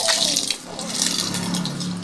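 Water poured out onto sand, a steady splashing, gushing stream close by and fairly loud, continuous for the whole moment.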